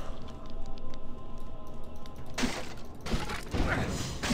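Explosions in the video game Diablo 2: Lord of Destruction, a hum of game ambience broken by two bursts of loud, crackling blast noise in quick succession near the end.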